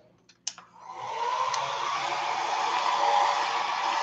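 A hair dryer drying a gelli print switches on after a couple of clicks and runs with a steady, loud whooshing roar.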